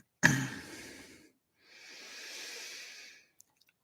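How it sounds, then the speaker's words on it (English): One deep, audible inhale through the nose, followed after a pause by a long, soft, airy exhale during a yoga meditation session. "Deep inhale."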